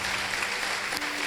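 A church congregation claps together in a dense, steady wash of applause, heard briefly at moderate level with no voices over it.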